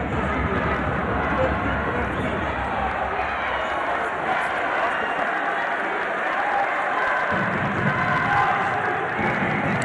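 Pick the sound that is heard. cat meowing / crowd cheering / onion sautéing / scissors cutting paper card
crowd cheering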